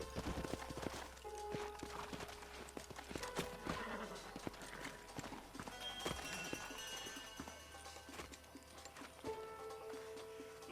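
Horses in a Western cowboy scene clip-clop over the ground with a neigh rising above the hoofbeats, layered with background music and movement at moderate volume.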